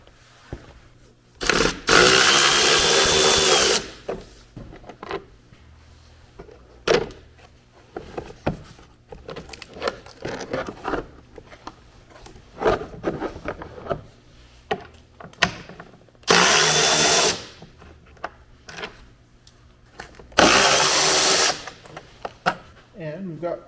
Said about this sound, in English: We've got some screws that need to come out now.